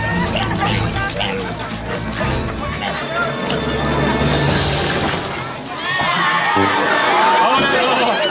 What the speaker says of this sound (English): the crowd's going nuts